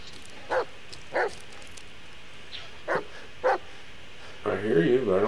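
A dog in the Blair Witch video game barks four times in short, evenly spaced bursts at moderate distance, after which a person starts talking.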